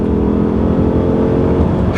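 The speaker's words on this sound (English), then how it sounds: "We'll do one final acceleration as we come up this hill." A 2021 Ford F-150 Hybrid pickup accelerates uphill in third gear, heard as a continuous loud, low engine roar from inside the cab with road noise, steady across the short stretch.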